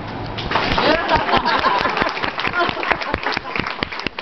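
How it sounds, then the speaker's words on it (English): An audience claps in a burst of distinct, fairly close hand claps with an uneven rhythm. The clapping continues throughout, and people talk over it. "Clap."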